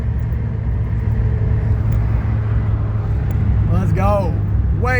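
A junkyard LS-swapped 2005 Chevy Silverado running a Truck Norris cam rumbles with a loud, steady low idle, engine sound filling the whole stretch, with a few brief voices rising over it near the end.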